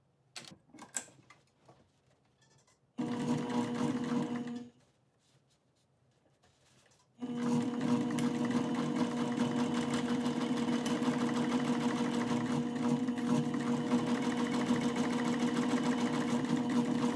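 A sewing machine stitches a seam in a jacket liner, first a short run of steady mechanical whirring, a pause, then a longer continuous close hum of needle strokes.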